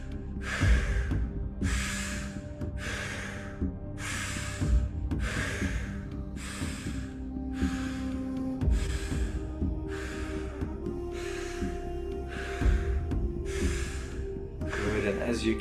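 Deep rhythmic breathwork, with about a dozen strong, even breaths repeating close to the mic at a steady pace over a low background hum.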